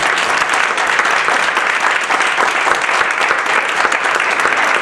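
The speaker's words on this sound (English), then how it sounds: "Give Toby a round of applause." Dense, steady audience applause for a guest named Toby fills the room at close range, many hands clapping continuously without a break and no voices heard.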